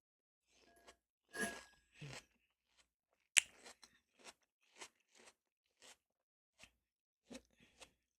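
Crunchy bites and chewing of watermelon, close to the mic, in a string of separate short bursts with quiet gaps between them.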